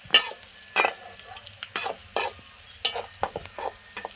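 Onions fry in a pan for fish puttu, with a continuous sizzle under repeated bursts of stirring and scraping at an uneven rhythm, close by and without speech.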